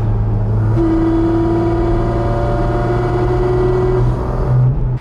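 Porsche GT4 RS sports car engine revving loudly up near 2,800 RPM, a steady close, droning roar with strong low rumble sustained for several seconds before easing slightly at the end.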